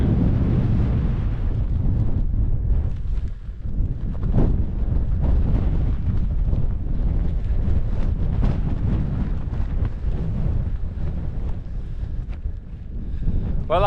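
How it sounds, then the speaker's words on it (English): Strong wind buffets the microphone at an autumn wild camp on a Cheviots hillside, a loud continuous roaring rush with gusty surges and no pauses throughout. "it's a bit breezy, but it's not too bad"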